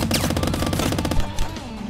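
Rapid gunfire from a Glock in a video game, a dense burst of sharp repeated shots followed by a couple of heavier thumps.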